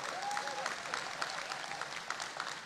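An audience applauds at a community event welcoming a new airline in the U.S. Virgin Islands, producing a brief, fairly faint patter of clapping with a voice briefly heard over it.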